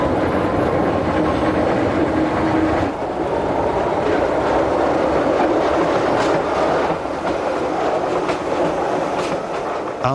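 A Jungfrau Railway train climbs steadily uphill toward Kleine Scheidegg, its wheels giving a continuous loud rumble and clatter on the rails with brief clickety-clack beats, close and steady throughout.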